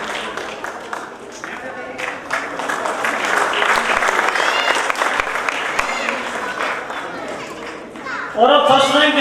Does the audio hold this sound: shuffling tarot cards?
no